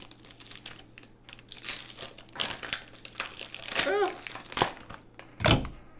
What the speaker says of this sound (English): you have to cut the plastic off